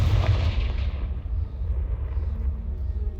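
A Confringo blasting spell in Hogwarts Legacy goes off as one heavy, booming explosion, then a low rumble carries on and slowly fades over the next few seconds.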